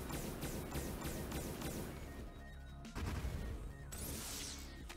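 A video game weapon fires in a rapid burst of sharp repeated shots at first, then a few heavier blasts and crashes follow amid game sound effects, loud and close with no talking.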